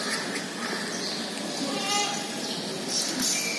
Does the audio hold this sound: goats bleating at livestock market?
yes